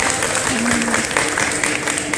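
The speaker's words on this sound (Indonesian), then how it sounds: "tepuk tangan dong untuk Kak Satria" An audience at a film meet-and-greet in Surabaya claps steadily in dense, loud applause throughout, with a voice briefly audible underneath.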